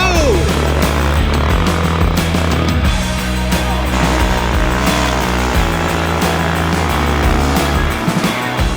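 A motorbike fitted with a sand tire ploughs through deep snow, its engine droning loudly and continuously with revving surges and a rough, steady roar close up throughout.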